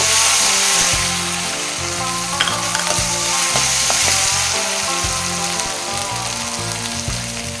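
Crushed ginger, garlic, cinnamon, cloves and fennel fry in hot oil for tomato rice, with a loud, continuous sizzle and the scrape of stirring throughout.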